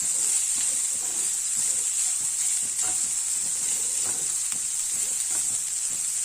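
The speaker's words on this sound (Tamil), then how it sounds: "இப்போ சாதத்தை கிளறிடலாம். சாதம் போடும்போது சிம்மில் வச்சுக்கோங்க நல்லா அடுப்பை." Carrot rice being gently stirred in a pan over a low flame, with a soft, steady sizzle and faint scraping strokes of the spoon repeating throughout, no talking.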